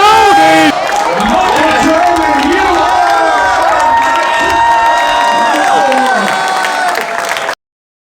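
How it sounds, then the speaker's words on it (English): A crowd cheers and roars loudly at the Microsoft Excel World Championship grand final, with shouts and whoops layered over a dense sustained din before it cuts off abruptly near the end. "Look at the crowd here! Exploding!"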